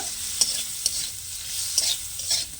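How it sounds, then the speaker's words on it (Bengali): Kashmiri chili powder stir-fried in a pan for star fruit chutney, a steady soft sizzle broken by several sharp scraping strokes of the spoon, close and without talk. "আর দেব অল্প করে কাশ্মীরি লঙ্কার গুঁড়ো দিয়ে ভালো করে আমি কষে দেব"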